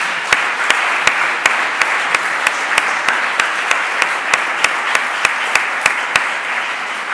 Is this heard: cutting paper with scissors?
no